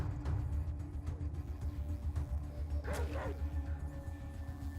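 A dog yelps after being hit during combat in the ATOM RPG video game, a couple of sharp high cries near the middle over a dense low game soundtrack, moderately loud and without talk.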